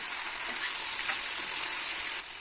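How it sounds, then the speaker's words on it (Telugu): Mushrooms hitting hot oil in a pan for a curry give a steady, close, bright sizzle that holds evenly throughout and eases slightly at the end. "శుభ్రం చేసి పెట్టుకున్న మష్రూమ్స్ వేస్తున్నాను"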